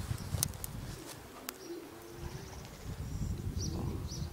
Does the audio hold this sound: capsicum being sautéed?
no